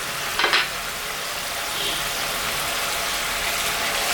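Mrigal fish curry gravy simmers in an open pan just after the lid comes off, giving a steady soft bubbling hiss throughout with a brief clatter near the start.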